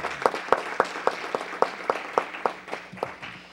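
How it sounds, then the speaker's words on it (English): At a city council meeting, a single person claps rhythmically in a quiet room, about a dozen evenly spaced sharp claps in a row with a faint hum underneath. "Everyone, please give me a round of applause as well."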